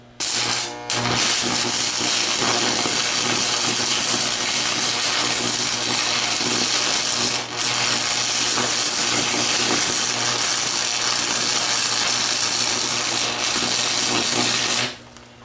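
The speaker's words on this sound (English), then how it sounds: "He's welding." Welding on a Dixon deck repair produces a loud, steady, close electrical buzz with a droning hum. It breaks off briefly near the start and again about halfway through, with no voices.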